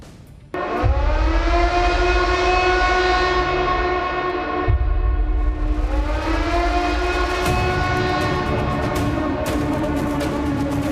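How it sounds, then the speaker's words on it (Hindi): A civil defense air raid siren blares during a nationwide mock war drill, a loud sustained wailing tone that dips and then swells again over about eleven seconds, with no talking. "देश भर में इस मॉक ड्रिल को युद्ध का सायरन माना जा सकता है।"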